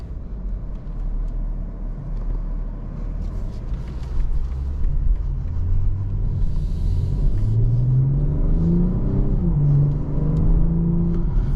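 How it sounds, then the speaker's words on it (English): A 2024 BMW M440i coupe accelerates on the road, its engine rumble rising through the gears with climbing revs and a brief shift dip, heard from inside the cabin, steady and fairly loud, no talking. "Good acceleration."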